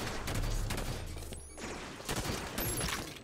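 Rapid bursts of Bolt Shot gunfire in a Halo 5 multiplayer match, loud and dense with repeated shots and game effects running through the whole stretch.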